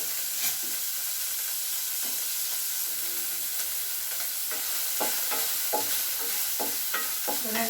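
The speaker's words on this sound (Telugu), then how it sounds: "ఆయిల్ వేసుకొని అప్పుడు మనం ఉల్లిపాయ ముక్కలు అన్నీ వేసుకోవాలండి" Onion pieces fry in hot oil with a steady close hiss and sizzle, broken by scattered spatula scrapes and taps against the pan, with no talking.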